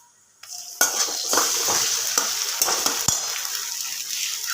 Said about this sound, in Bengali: এবার এর মধ্যে দিয়ে দেব একটুখানি আদা রসুনের পেস্ট